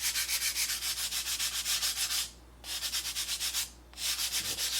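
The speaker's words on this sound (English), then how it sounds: "let's get this all sanded down and a radius" Part of a Junior 100 RC trainer model airplane is sanded to a radius in long, steady, rhythmic strokes. The loud rasp pauses twice briefly.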